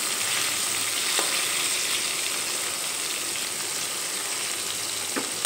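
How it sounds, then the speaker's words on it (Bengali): Bhola fish pieces sizzling steadily in hot oil in a pan, a close, even crackle and hiss with faint pops, no voices. "এখানে দ্বিতীয় ব্যাচের ভাজার জন্য সবগুলো মাছ আমি এখানে"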